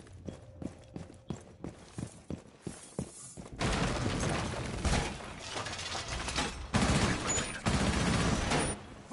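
Video game gunfire opens with a sharp run of evenly spaced single shots, then gives way to a dense, loud, sustained barrage of overlapping volley fire and rumbling impacts.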